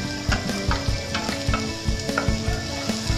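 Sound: garlic sautéing in a pan

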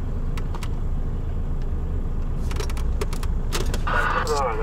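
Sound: loaded truck slowly driving with wheels slipping

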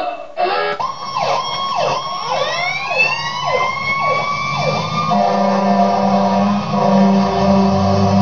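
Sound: emergency vehicle sirens passing

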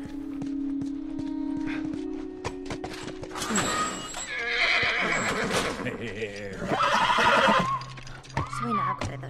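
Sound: horse neighing and hooves in video game The Last of Us

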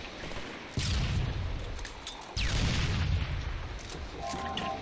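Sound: rocket explosions and gunfire in the video game Halo 3

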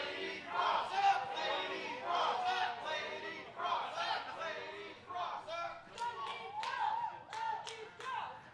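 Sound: wrestling crowd chanting

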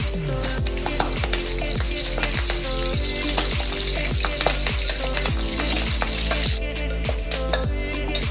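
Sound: frying leaves and dried chilies in oil

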